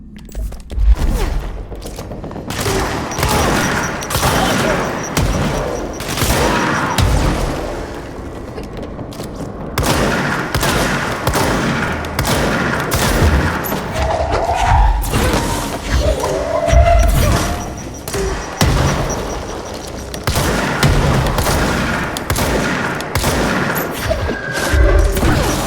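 Shotgun gunfire in the video game Control, a dense run of loud booming blasts and crashing impacts over about 25 seconds, with near-constant action noise and brief quieter gaps between bursts.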